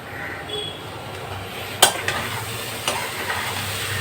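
Food fries in a pan, a moderate, steady sizzle with a few sharp clinks and scrapes of utensils against the pan, heard close and without speech.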